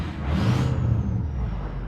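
Ford F250 pickup with a 6.0 diesel engine running steadily, a low rumbling drone heard close for about two seconds with a faint hissy wash on top and no voices.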